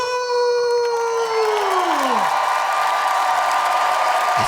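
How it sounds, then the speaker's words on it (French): A studio audience cheers and whoops in a dense, steady roar at a comedy show, joined by a sustained tone that slides downward and fades under the crowd noise. "Sous vos applaudissements,"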